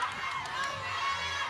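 A television studio audience shouts and cheers continuously during a timed game segment, a dense, loud, steady roar of many voices.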